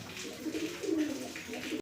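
Racer pigeons coo softly close by, a low throaty burbling that swells in the middle, with faint background noise and no talk.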